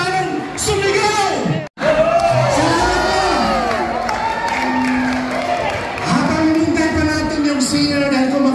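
A large crowd at an outdoor 80th birthday celebration for former president Duterte shouts and cheers together in sustained loud waves, with a brief break before the roar resumes.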